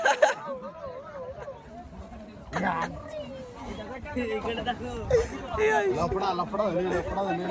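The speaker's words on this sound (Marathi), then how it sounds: "फुल गर्दी आली आहे" A crowd gathered outdoors at night during rain, with overlapping voices, shouts and general chatter close by, the babble rising and thickening toward the end.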